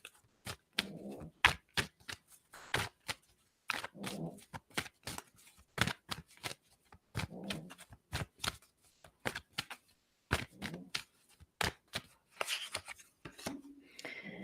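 Cards shuffled and drawn during a live card reading, a long series of sharp riffling bursts and flicks, close and fairly quiet, with brief pauses between.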